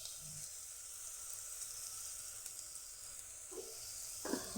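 Onions sautéing with a pinch of salt in a pan for ridge gourd kootu, a faint steady sizzle and hiss with a couple of soft stirring knocks near the end and no talking.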